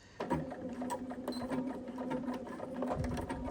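A sewing machine set to long basting stitches runs at a steady mechanical clatter. Its needle ticks rhythmically and it is close and continuous, with no talking.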